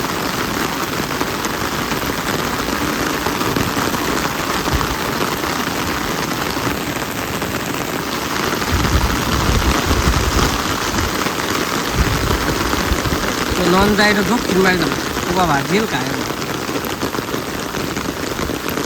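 Steady rain pours over a village, making a dense continuous hiss that holds throughout, with brief faint voices partway through.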